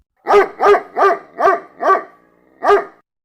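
A dog barks six times close and loud, five quick evenly spaced barks followed by a short pause and one final bark, with nothing else behind it.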